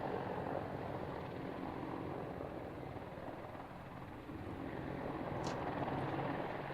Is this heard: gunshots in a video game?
no